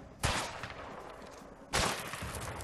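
Enemy gunfire in the video game A Way Out, two loud sharp shots about one and a half seconds apart, each trailing into a rumbling echo, with no voices.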